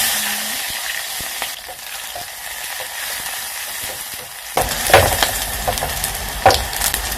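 Greens dropped into a little hot oil in a tiny pot: a low background hiss, then a sudden loud sizzle bursts up partway through and keeps crackling with sharp spits.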